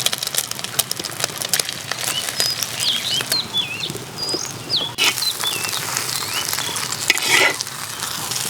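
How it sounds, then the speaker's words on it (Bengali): Egg with chopped onion and chilli frying in white oil in a wok, a steady close sizzle with scraping stirs, while birds chirp outdoors in a village setting. "ডিম ভাজার জন্য কড়াইতে সাদা তেল দিয়ে দিচ্ছি"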